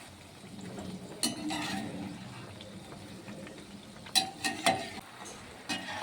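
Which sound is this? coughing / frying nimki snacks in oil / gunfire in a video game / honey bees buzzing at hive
frying nimki snacks in oil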